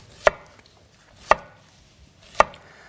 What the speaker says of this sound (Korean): 그래서 호박을 한번 썰어 보도록 할게요. 애호박을요.